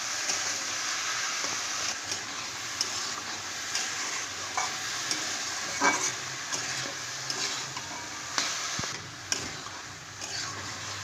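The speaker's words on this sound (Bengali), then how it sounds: "এবার এতে দিয়ে দেবো লবণ আর দেবো হলুদ গুঁড়ো। এবার ভালো করে কষিয়ে নেব।" Vegetables sauté in a pan with salt and turmeric for a chochchori, a steady soft sizzle with occasional scrapes and taps of a stirring spoon, moderately quiet and close, no talking.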